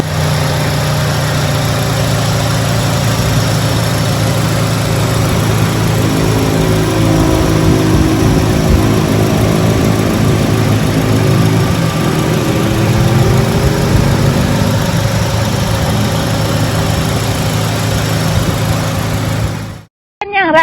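A Honda Accord 2.4 EL engine idles with a steady, loud, even hum that runs unbroken for about twenty seconds before cutting off abruptly at the very end.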